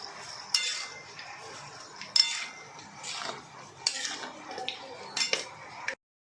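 A lid is set over a pot of sweet-and-sour tomato curry on low heat, with several light metallic clinks and scrapes of cookware spread over a few seconds, close by and alone.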